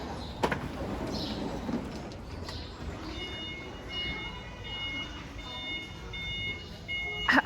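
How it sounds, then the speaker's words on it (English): Electronic beeping from a machine at a Lowe's store entrance, a series of faint high tones repeating in the middle and end of the clip over busy background noise. "I thought that was the door beeping as I walked in."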